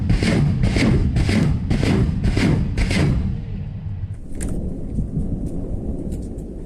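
A salvo of BM-21 Grad rockets lands in about six rapid, evenly spaced heavy booms, followed by a lower rolling rumble and a few scattered faint cracks.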